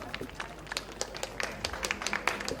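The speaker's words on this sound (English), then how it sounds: "Big applause." Applause for the Estonian national team at a heptathlon and decathlon event, a brief stretch of scattered clapping at moderate distance with no talk over it.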